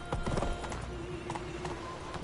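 Roach the horse gallops in The Witcher 3, a steady run of hoof clip-clops with a faint whinny over a busy game soundscape, no talk.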